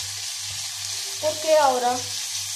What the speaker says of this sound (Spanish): Cuidado que tenemos que freír nuestras patatas